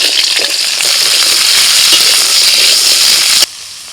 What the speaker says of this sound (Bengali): ওই তেলের মধ্যে দিয়ে দিচ্ছি সজনে ডাঁটা।